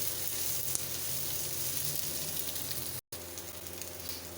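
Mixed vegetables for a curry sizzle and fry in a pan, a steady close crackling hiss broken by one very brief dropout, with no talking.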